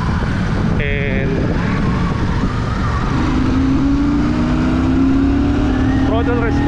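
Royal Enfield Classic 650 motorcycle engine (650 cc) revving on the road, with a rising engine tone building and pulling under steady wind noise and speech.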